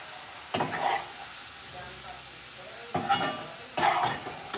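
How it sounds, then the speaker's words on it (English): Onions and chopped vegetables sautéing in a pan for a cornbread stuffing, with a steady low sizzle broken by three bursts of stirring and scraping near the start, middle and end, no talking. "saute our onions, our veggies that I cut up earlier"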